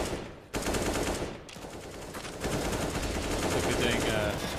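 Sustained automatic gunfire sprays in Counter-Strike on the Inferno map during a competitive esports match, loud and continuous for several seconds, with a commentator's voice faintly underneath.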